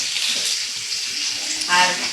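Garlic fries in a pan with a steady hiss and sizzle at close range, with a brief louder burst near the end.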